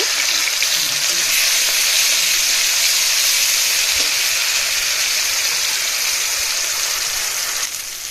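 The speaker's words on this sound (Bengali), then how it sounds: "এদিকে আমি জিরা ফোড়ন দিয়ে দিয়েছি, কয়েক রসুনটাও দিয়ে দিলাম।" Cumin seeds, garlic and onion fry in hot oil for mutton kasha, giving a loud, steady sizzling hiss that barely changes from start to finish and eases slightly at the very end.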